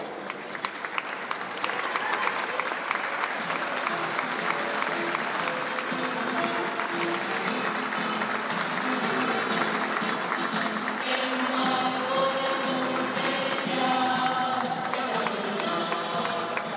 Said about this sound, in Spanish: Vamos a recibir con un fuerte aplauso a nuestras banderas de ceremonias